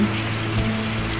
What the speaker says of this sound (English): It's such a beautiful rainy morning.